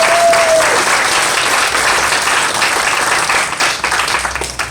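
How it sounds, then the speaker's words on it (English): Loud, sustained applause from an audience at a police chief's retirement event, thick continuous clapping that fills the room and tapers slightly toward the end. "Let's give her a round of applause."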